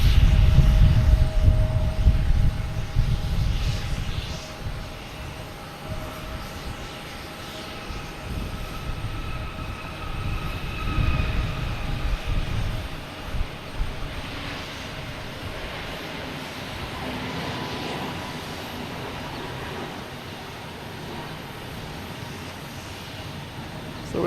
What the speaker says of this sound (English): Taking off now is Iberia, heading back to Madrid. A321neo